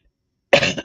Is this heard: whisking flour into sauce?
no